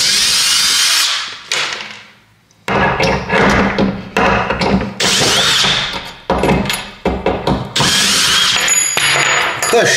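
A power screwdriver drives screws during a flat renovation, with repeated loud close whirring bursts separated by short gaps, thumps and handling clatter.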